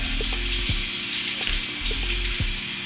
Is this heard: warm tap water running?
yes